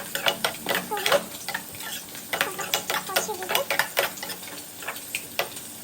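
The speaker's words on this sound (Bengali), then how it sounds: "আমরা একটু নাড়াচাড়া করে ভেজে নেবো" Rui fish curry with brinjal, onion and kochu being stirred and fried in a pan, giving a steady sizzle broken by a rapid run of spatula scrapes and clicks against the metal, close and moderately loud.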